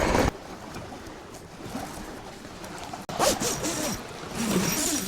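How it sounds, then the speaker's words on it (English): Heavy-duty zippers on a large pole-free tent are pulled in quick rasping strokes, one short burst at the start and longer, louder zipping runs after a brief pause, close to the microphone. "Big heavy-duty zippers."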